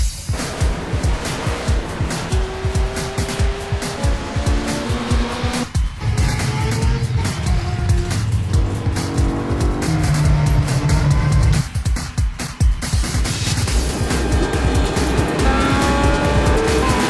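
Race cars at the Daytona 500 roaring and screaming past at close range, engine notes rising and falling with tire squeal, loud and continuous with brief dips between passes.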